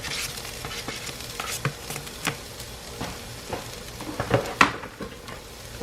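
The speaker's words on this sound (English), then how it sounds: "Now we're going to add our meat back in." Meat and onions fry in a pan with a steady close sizzle, broken by repeated scraping stir strokes and occasional clinks against the pan.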